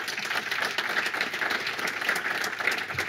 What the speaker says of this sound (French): Encore une fois, vous pouvez vous applaudir.